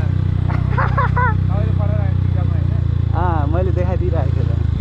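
A motorcycle engine drones steadily at low pitch throughout, a constant rumble while the rider eases off on a ride, with voices talking loudly over it most of the time.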